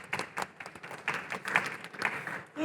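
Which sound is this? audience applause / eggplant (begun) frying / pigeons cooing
audience applause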